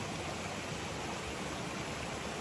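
A mountain stream in autumn woodland flows with a steady, dense rushing hiss, close and constant throughout, with no voices.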